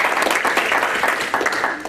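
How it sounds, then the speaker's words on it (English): A short burst of applause rises from attendees at a city council meeting, a brief rippling patter of many hands clapping, fairly close and loud, with no talking over it. "that applause was for Johnny"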